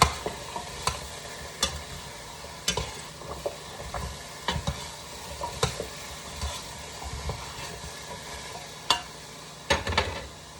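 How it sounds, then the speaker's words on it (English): A spoon stirs carrots in a pot of hodgepodge soup, making a soft bubbling bed of sound broken by sharp, irregular clacks and scrapes against the pot, repeated every second or so and heard up close. "We're going to give it a good stir."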